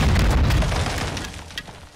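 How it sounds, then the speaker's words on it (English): A grenade goes off in the Call of Duty Modern Warfare 2 campaign, a single heavy boom up close that gives way to a rumbling roar and slowly fades over the next two seconds. "Grenade through the window."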